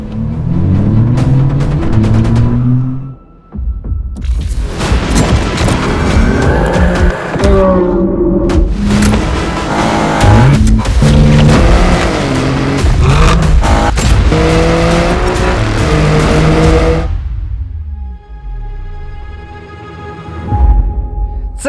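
An Alfa Romeo Giulia Quadrifoglio sport sedan is driven hard, its engine roaring and revving up and down through gears with tires squealing at times, close and loud, before easing to a quieter idle near the end.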